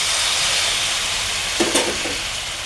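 A pan of cucumber and potatoes in spices gives off a continuous, fairly loud hissing sizzle as a little water is added, with a couple of brief stirring clinks.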